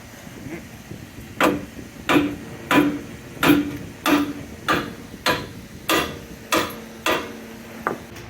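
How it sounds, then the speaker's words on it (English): A large hammer taps a bolt out of Lexus IS300 suspension during a Tein Flex Z coilover install, about ten sharp metallic knocks at an even pace, each close and distinct. "use a hammer or a fine adjustment tool, aka a small hammer, to gently tap that bolt out"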